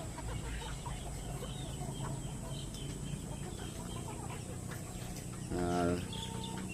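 Three-month-old young turkeys and Rhode Island Red chickens cluck and murmur faintly amid farmyard background, with one louder, closer call near the end.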